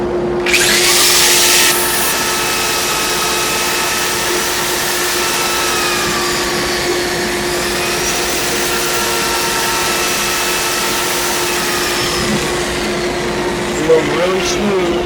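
Sandpaper rubs a wooden rolling pin spinning on a lathe, the motor's steady hum and tonal whine running continuously with a louder scratch at the start.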